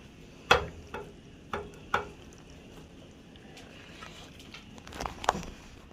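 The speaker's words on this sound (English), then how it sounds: "You're gonna mix the tuna in real good with the macaroni." Tuna is mixed into cooked macaroni for a casserole, giving a few soft clinks and scrapes of a utensil against the dish amid quiet, damp stirring, close but faint.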